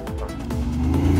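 An eco sports car pulls away, its engine note rising in quick stepped revs over about a second, close and moderately loud with no talking.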